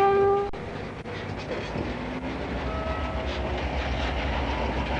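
An iron ore freight train rolls along a Pilbara railroad, sounding a brief horn at the start and then a steady, loud rumble with rhythmic wheel clatter carrying on throughout.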